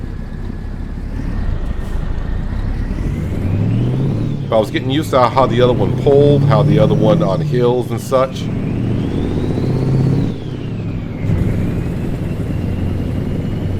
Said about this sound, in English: just listen to the engine again